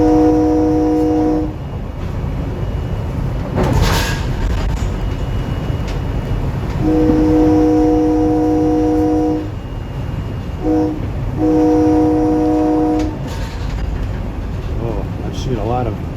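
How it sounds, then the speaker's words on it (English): SEPTA regional rail train horn sounding in three separate blasts, a long one near the start and two more later, over the constant rumble of the moving train heard from on board, with a voice speaking in between. "Get to hear this beautiful horn."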